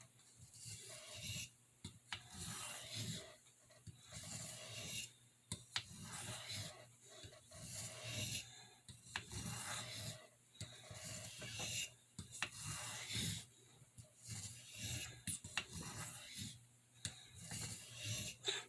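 A Boker pocketknife's pen blade is stroked across a hard Arkansas sharpening stone, giving quiet, steady rasping strokes repeated in a regular back-and-forth rhythm, close up with no talking.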